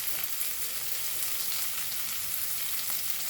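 Chilies frying in a pan for raw papaya bhaji, giving a continuous bright sizzle that stays even and close throughout with no voices.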